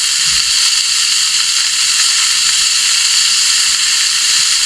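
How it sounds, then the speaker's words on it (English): Food frying in a big pan, giving off a loud continuous steamy hiss and sizzle that holds steady throughout, close by, with no talking. "You didn't have to get a lot of bloody steam in here, but you've done it."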